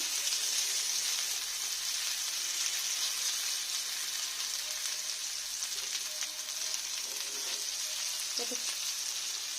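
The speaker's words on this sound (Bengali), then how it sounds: "লাল লাল করে আমি পেঁয়াজটাকে একটু ভেজে নেব ভালো করে।" Onions frying in a pan as a tempering for a home-cooked greens dish, a continuous close sizzle and crackle with faint stirring knocks near the end.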